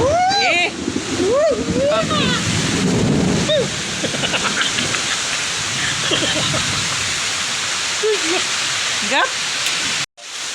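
Steady hiss of the first rain after the hot season falling in a village, across the whole stretch, with people talking and calling out over it before the sound cuts off abruptly near the end.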